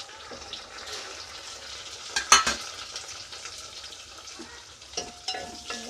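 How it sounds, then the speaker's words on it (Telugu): Onions and tomatoes frying for prawn biryani produce a continuous crackling sizzle, with a couple of sharp spatula clinks against the pan partway through and again near the end. "ఆనియన్స్ బాగా ఫ్రై అయ్యాయి కదా ఇప్పుడు ఇందులో టమాటా వేసుకున్నాము"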